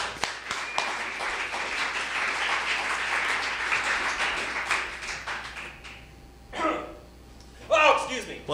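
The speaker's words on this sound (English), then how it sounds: "A round of applause." Audience applause at a civic gathering, a full burst of clapping that swells and then fades out, followed by brief talk from people nearby.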